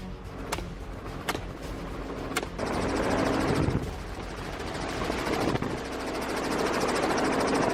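Helicopter rotor and engine noise from an aerial feral pig hunt over open country, a continuous throbbing drone with a few sharp clicks early on, rising slightly in loudness toward the end.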